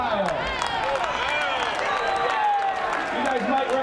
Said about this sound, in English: Let's cheer for Kyle.